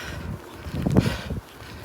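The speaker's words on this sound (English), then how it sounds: "It's windy, it's rainy, it's bloody freezing." Low, rumbling wind buffets the microphone on a rainy, freezing run in London, swelling into a stronger gust midway and then easing back to a steady roar.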